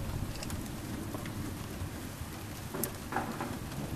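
Thunderstorm over Spijkenisse with steady rain pattering on surfaces and faint rumbles of thunder, quiet and continuous.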